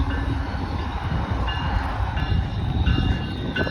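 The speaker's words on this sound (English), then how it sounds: "Oh shit, that's my train." A train rumbles steadily close by as it arrives at a station, a low continuous roar with faint metallic squeals on top, no voices.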